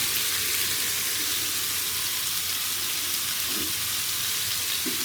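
Rice being stirred into sizzling fish biryani masala in a hot pot gives a continuous, even sizzle and frying hiss at moderate volume, with faint scraping and no talking.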